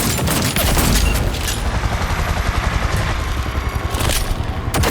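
Gunfire in Cyberpunk 2077: loud rapid bursts of shots and booming impacts crowd together in a dense barrage, with clattering debris, and the volley stays heavy from start to finish.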